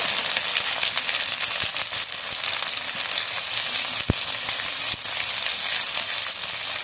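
Tomato frying in hot oil with ginger, garlic and onion for a crab masala curry, a steady close sizzle with a few sharp ticks and clicks from the pan, and no voices.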